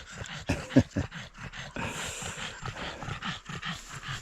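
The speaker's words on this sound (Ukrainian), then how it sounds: "собаки набігались." Dogs pant after running around on a mountaintop in the Carpathians, quick rhythmic breaths close by, with a few soft whimpering noises mixed in.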